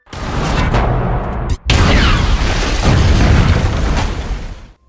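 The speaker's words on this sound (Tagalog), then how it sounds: "ang tangke ng gasolina na dala ni Chambers dahilan upang magkaroon ng malaking pagsabog at mapatay ang mga zombie na nakapalibot sa kanya." A gasoline tank blows up in a zombie movie: a loud, sustained explosive roar with a brief dropout, then continuing rumble and crackle that dies away near the end.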